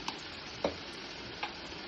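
Onion paste frying in oil in a pan for fish curry, giving a steady soft sizzle with a few faint clicks of a spoon stirring.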